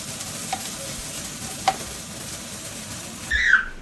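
Onions frying in a pan, a steady close sizzle with a couple of soft stirring taps, ending in a brief louder scrape and squeal near the end.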